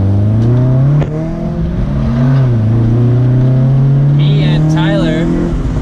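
A BMW engine drones loudly and steadily, its pitch climbing as the car accelerates and revs, with a brief lift partway through; people talk over it.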